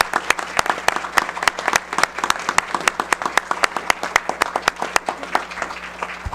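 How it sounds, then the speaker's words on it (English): Applause at a county board meeting from a small group in a meeting room, with sparse, distinct, sharp hand claps in an irregular pattern, each one clearly separate and fairly close. "So if we could just give her a round of applause."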